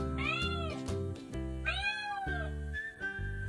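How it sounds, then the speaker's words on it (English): A tiny dwarf cat meows loudly twice, long drawn-out wailing calls close by, over a steady low tonal background with no talking. "for such a tiny cat, her voice is enormous"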